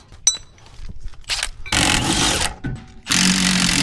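Cutting tool snipping through the old brake lines on a Ranger boat trailer during a brake line replacement, brief clicks followed by two longer harsh, scraping bursts up close.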